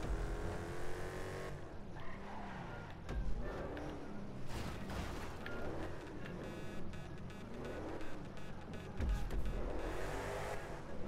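A beat-up junk car driven in Grand Theft Auto V: a steady droning engine with rising and falling revs throughout, plus occasional tire skids and thumps, close and fairly loud.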